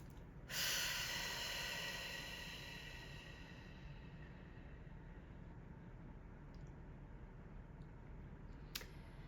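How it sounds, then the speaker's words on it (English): A single deep breath is drawn in during a guided meditation. It swells suddenly near the start, then fades slowly into a quiet, steady hush, with no talking. "Go ahead and take one of the deepest breaths of your life."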